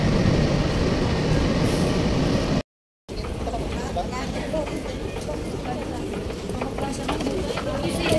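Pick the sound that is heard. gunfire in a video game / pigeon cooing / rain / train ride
train ride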